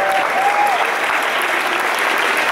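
An audience applauding at a rock interview event in Cleveland, steady dense clapping throughout, loud and close, with a voice briefly heard at the start.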